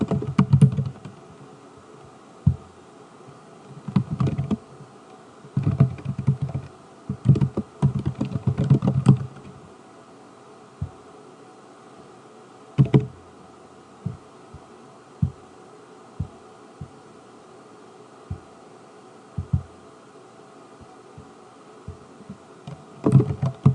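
Keystrokes on a computer keyboard as a patient admission note is typed, coming in quick bursts of taps with pauses between, fairly close and moderately quiet over a low steady room hum.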